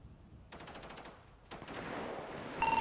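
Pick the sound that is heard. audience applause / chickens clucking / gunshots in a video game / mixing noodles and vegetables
gunshots in a video game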